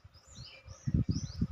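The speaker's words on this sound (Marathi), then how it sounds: "आणि सुमधूर पक्ष्यांचे पण आवाज किलबिल" Faint, high bird chirps and thin whistling calls drift overhead, with soft low thumps and rustling nearby.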